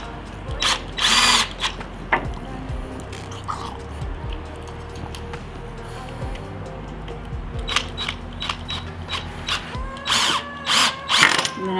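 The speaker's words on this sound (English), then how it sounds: "we're just gonna drill these other ones in." A power drill whirs in several loud bursts, driving screws into wood for a skate slide rail, with pauses between, along with some clunks and handling noise.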